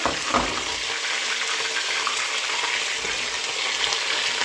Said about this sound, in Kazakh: Етті қуырам жуамен бірге.